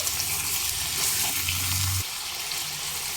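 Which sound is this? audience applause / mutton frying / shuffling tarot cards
mutton frying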